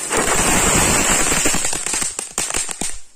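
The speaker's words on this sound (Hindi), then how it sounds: "नेक्स्ट आता है हमारा ये टिन टिन वाला पटाखा।" A tin tin Diwali firecracker goes off outdoors with a dense, loud, sizzling crackle. It breaks into rapid snapping pops that thin out and fade over about three seconds, with no talking.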